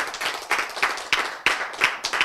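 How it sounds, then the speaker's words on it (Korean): One person clapping hands alone in a lecture hall, a quick run of bright, distinct claps at an uneven rhythm, moderately close and fairly soft, with no other voices. "박수 쳤어"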